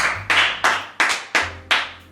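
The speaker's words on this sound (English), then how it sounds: "Let's give a round of applause for these two guests." A slow round of applause: six crisp, evenly spaced hand claps, close and loud, each one ringing briefly.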